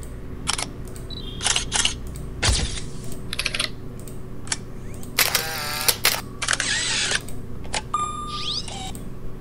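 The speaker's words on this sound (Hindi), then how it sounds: "ये कैमरा के साउंड इफेक्ट्स की अलग से कैटेगरी बना रखी है" Camera sound effects from the Filmora 13 editing software library, played back one after another: shutter clicks, mechanical snaps, electronic beeps and winding whirs in a quick series of separate bursts, no talk.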